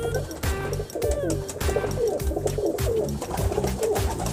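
Pigeons kept as breeder pairs coo repeatedly up close, several birds overlapping in a continuous, rhythmic chorus of low rolling calls.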